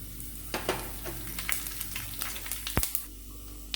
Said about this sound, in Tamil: சோம்பு பட்டை இலை கிராம்பு அதெல்லாம் நான் சேர்க்க போகிறேன்.